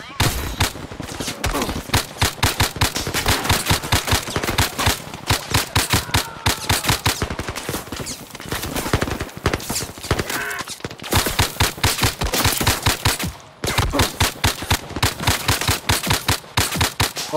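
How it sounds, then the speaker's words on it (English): Dense, rapid gunfire in the VR shooter Zero Caliber, bursts of automatic shots crackling almost nonstop with only a few brief pauses, loud and close. "This is gonna be an intense gunfight."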